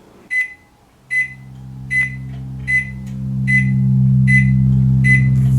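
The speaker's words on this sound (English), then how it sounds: "This made the microwave very impatient." A microwave oven beeps four times in an even rhythm, loud and close, then a steady low hum of the running oven takes over to the end.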